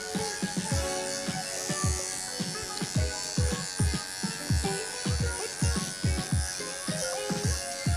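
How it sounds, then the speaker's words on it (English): Electric clippers buzz steadily while shaving a standard poodle's face during a professional grooming session, with rapid repeated strokes giving a pulsing, close, fairly loud hum throughout. "from the corner of the ear, I'm just gonna shave in a U shape and set the rest of my clean face in"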